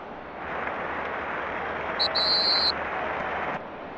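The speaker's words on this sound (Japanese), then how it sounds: "試合開始のホイッスルが鳴りました" A referee's kickoff whistle in the World Cup 98 video game, Netherlands versus Yugoslavia, sounds as one clear, fairly loud blast lasting under a second over a steady hum of stadium crowd noise.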